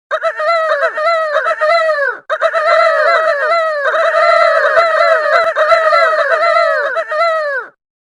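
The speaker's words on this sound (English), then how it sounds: "he does this chicken noise where like a cock-a-doodle-doo" Peter Pan's rooster-like crowing battle cry from the Kingdom Hearts game, a loud, continuous series of harmonic warbling calls that break briefly once and then carry on nearly nonstop until cutting off.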